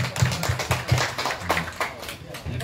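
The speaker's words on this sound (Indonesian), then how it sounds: "tepuk tangannya dong" Scattered clapping rises from an audience at a community fire-prevention outreach event in a housing estate, with sparse claps heard beneath someone speaking.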